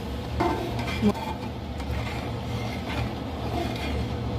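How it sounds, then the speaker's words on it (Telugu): Rice and water are stirred in a pot for country-chicken pulao, a soft sloshing swirl over a steady low hum, with one or two light clinks of a spoon against the pot, close and without speech. "వేసుకొని బాగా మిక్స్ అయినట్లు బాగా కలుపుకొని"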